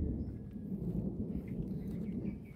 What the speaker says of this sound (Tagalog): Grabe yung kulog.